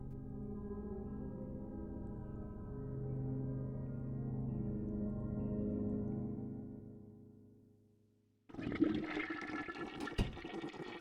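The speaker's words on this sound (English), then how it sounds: "Sorry, it was a double flusher." A toilet flushes in a bathroom, a long swirling rush of water that fades out, then a second louder flush starts abruptly with gurgling and splashing.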